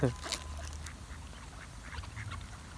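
Several ducks quack in scattered bursts while being fed doughnuts, against a noisy outdoor background, with a loud quack right at the start and more calls fainter later.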